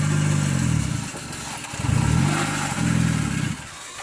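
A Fiat Panda 4x4 engine runs steadily nearby on a green lane, its low rumble swelling and easing in a few slow surges with no talking.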